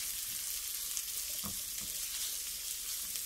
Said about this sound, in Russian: Отправляем сюда морковь с луком, сильно жарить не нужно, немножечко только будем обжаривать